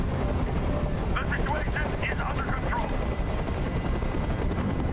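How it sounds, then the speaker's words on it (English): A video game helicopter hovering, its rotor thumping steadily throughout, loud and close, while a voice speaks briefly over it. "I can't stand that noise anymore. Tell that helicopter to get out of here."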